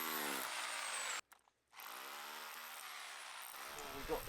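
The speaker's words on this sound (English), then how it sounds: "Simon needed to just drill the bedrock a bit more to have enough depth on this side of the foundation" A power drill bores into bedrock at a farm foundation site, a loud whining motor with a high buzzing tone that cuts out briefly, then resumes steadily and close by.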